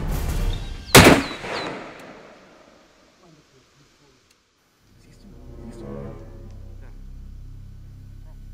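A single loud, sharp hunting rifle shot rings out near the start and echoes away, followed by quieter outdoor ambience with a low rumble.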